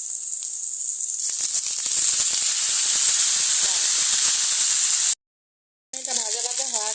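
Macaroni frying in a pan, a bright continuous hissing sizzle close by that cuts off briefly near the end and resumes, with a voice talking over it toward the finish.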